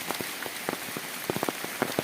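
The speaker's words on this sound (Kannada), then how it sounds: "ಸಿಕ್ಕಾಪಟ್ಟೆ ಮಳೆ ಬೀಳ್ತಾ ಇದೆ ನೋಡಿ" Heavy rain pours down in a coastal village, a steady close hiss with scattered sharper drops hitting surfaces throughout.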